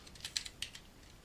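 A quick, soft burst of keystrokes on a computer keyboard, a handful of light clicks in just over a second, fairly faint and without any talk.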